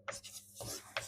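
Brief, faint scratchy strokes of writing on a classroom board, two or three short rubbing marks close by in a quiet room.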